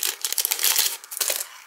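Plastic packaging around navy blue lace ribbon being torn open by hand, a close, busy burst of crisp crinkling and crackling that comes in quick irregular rustles and then tapers off.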